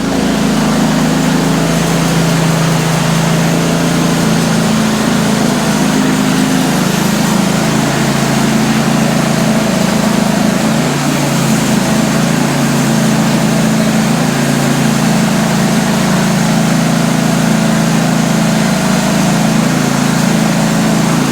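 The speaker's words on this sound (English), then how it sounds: "we're over at the band mill" The engine of a band sawmill runs steadily nearby, a loud, unbroken mechanical drone with a constant hum and no pauses, and nobody speaks.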